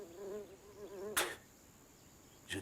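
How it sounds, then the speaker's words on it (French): Buzzing flies at an outdoor camp, a wavering drone up close that fades, cut by two sharp bursts of noise, with no talking. "Je déteste les mouches."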